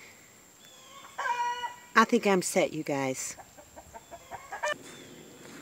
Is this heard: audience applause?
no